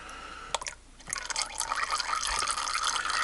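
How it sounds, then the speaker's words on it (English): Engine oil draining from a Toyota Prius C into a pan, a steady close trickling and splashing stream with a few louder drips, continuous throughout. "And finish letting it drain the rest of the way."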